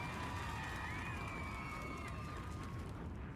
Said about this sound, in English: another round of applause for homie Key McGee